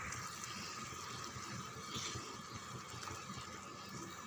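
Water is poured into a pan of curry gravy, a steady low splashing and gurgling flow that stays soft and continuous throughout with no talking.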